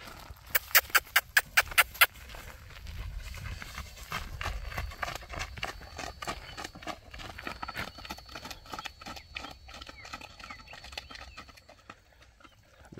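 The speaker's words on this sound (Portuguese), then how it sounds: "E a égua errou o caminho, Bruno." Mares walk along a farm track as they are moved to another farm, their hooves clip-clopping in an uneven, steady rhythm, with a run of sharp knocks at the start and faint background noise.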